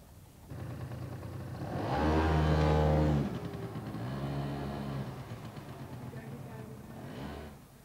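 A small petrol road vehicle starts and drives off, its engine revving up loudly, easing back, then surging again in a few accelerating pulses against steady background noise.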